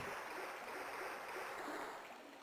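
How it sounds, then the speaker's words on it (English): Water splashing in the Resident Evil 2 video game, a steady hissing wash of running water, fairly quiet and unbroken, fading slightly at the end. "The water splashing, but you don't actually see it. You see it splashing a little bit."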